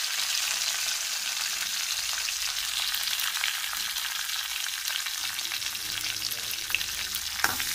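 Curry leaves, coriander and green chilies sautéing in oil with mustard seeds, a bright continuous sizzle with light stirring, a few crackles and a utensil knock near the end, no talking.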